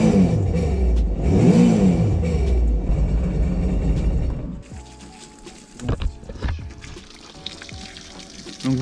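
A 2019 Sea-Doo GTI 155 SE jet ski engine is started out of the water to clear the turbine and given a light rev, a loud close roar that drops away, leaving splashing and gurgling water.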